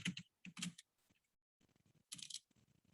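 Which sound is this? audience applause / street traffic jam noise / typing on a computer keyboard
typing on a computer keyboard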